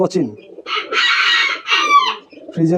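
A Cochin rooster on a small hobby farm lets out one loud, drawn-out crow in the middle, with someone talking briefly just before and right after it.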